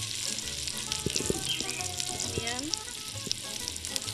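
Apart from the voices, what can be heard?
onions browning, frying in a pan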